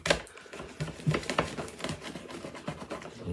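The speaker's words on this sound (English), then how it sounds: "let's grab a hold of this and let's cut us a little piece here" A knife sawing through a piece of warm focaccia bread on a cooling rack, a close series of soft, crusty crackles and scrapes in an irregular rhythm.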